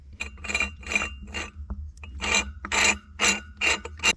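A metal nut is threaded by hand onto a well pump pipe fitting on a casing, giving short, close rasping scrapes in repeated bursts with small pauses between turns.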